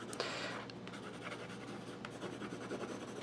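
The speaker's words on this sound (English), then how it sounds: "It's all about the pressure that you put on the pencil." Pencil shading on paper, a close, steady dry scratching that keeps going with slight shifts in pressure and no talk.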